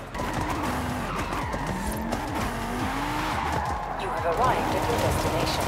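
A Cupra Formentor VZ5 Concept 2021 in a Forza racing game, its engine droning steadily while tires squeal in wavering skids under hard braking, loud and continuous, with a voice talking over it.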